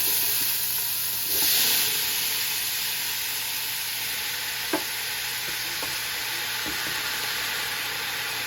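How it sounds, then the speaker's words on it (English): Vegetables sauté in hot olive oil in a large pot, giving a continuous soft sizzle and hiss with a few light clinks of stirring, steady and close with no talking. "got the olive oil heated up. Let's put all these vegetables down."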